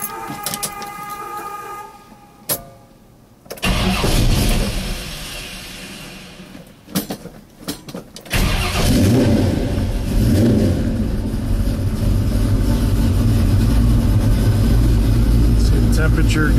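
A 1971 Chevelle SS with a 383 engine cranks after a few quiet clicks, fires up into a loud, deep rumble and settles into a steady close-up idle, with a brief stumble before it catches.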